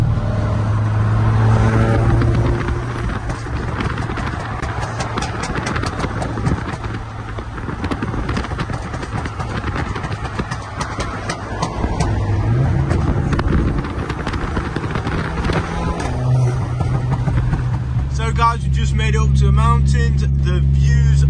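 Car on the Cannon Run road rally in Ireland, heard from inside as a steady engine drone and road rumble with gusty wind noise across the microphone, continuing loud throughout with no break.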